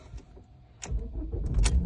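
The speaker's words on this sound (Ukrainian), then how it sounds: "Заводиться все досить непогано" A 2008 Ford Mondeo with a six-speed manual gearbox starts up: a faint key rattle and quiet moments, then the engine catches and settles into a close, steady rumble with no talking.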